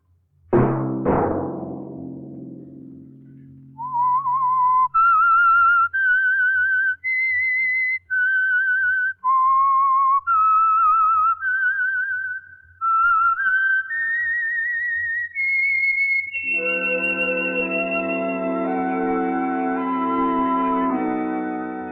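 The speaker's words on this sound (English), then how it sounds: "Let that whistle be your signal for the Signal Oil program" A struck chime rings out, then a person whistles a slow, eerie melody of sustained notes, ending on a long held orchestral chord.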